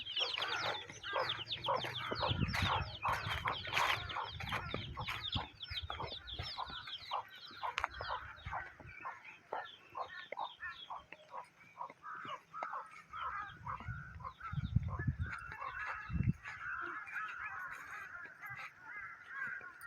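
Chickens and fowl clucking and calling in a Bangladeshi village outdoors, a busy flock with repeated overlapping squawks and clucks, fairly close, with scattered louder bursts and soft background noise.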